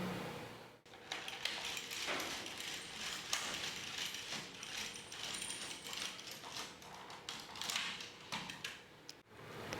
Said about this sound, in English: And now I'm going to knit one row and bind off.